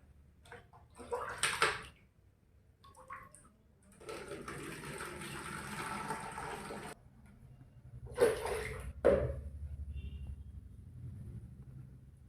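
Water pours from a tap into a plastic bottle, a steady hollow rushing for a few seconds between short splashy bursts and knocks, close and fairly loud with no talk.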